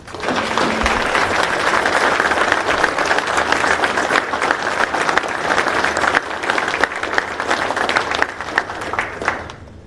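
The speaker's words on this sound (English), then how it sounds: "Please join us in a round of applause for Chief Warrant Officer for Retired, Richard Wilkinson" An audience at a warrant officer birthday ceremony gives a retired chief warrant officer a long, loud round of applause, dense clapping holding steady from start to finish.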